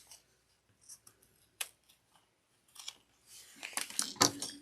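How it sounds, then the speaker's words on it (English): Scissors snipping off excess zipper tape at a sewing table, a series of short, crisp cuts that grow denser and louder toward the end, close by with no talking. "And trim any excess zipper tape."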